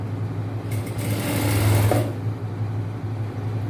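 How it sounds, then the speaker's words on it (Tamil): A sewing machine runs in one short, fast burst of stitching, sewing piping onto a chudidhar top, with quieter room hum before and after. "ஜஸ்ட் கிளாத் அப்படியே வச்சு தையல் போடுங்க, இழுக்காதீங்க."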